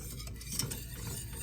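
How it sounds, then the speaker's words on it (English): A whisk stirring butter, cocoa, milk and powdered sugar for frosting in a pot, a quiet, brief rhythm of soft scraping and ticking strokes. "So whisk until the mixture has melted."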